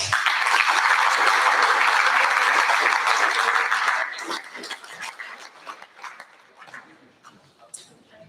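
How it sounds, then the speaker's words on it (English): A burst of crowd applause at a school sports awards ceremony, loud and steady for a few seconds, then thinning out into scattered claps and murmuring voices. "give ourselves a round of applause for that effort"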